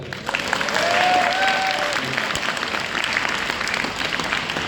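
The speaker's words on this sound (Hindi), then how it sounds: "सबके लिए होलसेल में ताली बजा दो" Audience clapping in unison at an Arya Samaj Vedic bhajan gathering, a steady burst of applause that swells quickly, holds for several seconds and then thins out.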